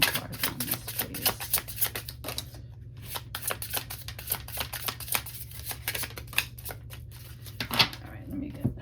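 Tarot cards being shuffled by hand, a run of quick crisp riffling bursts and flutters close up, with a steady low hum underneath and no talk.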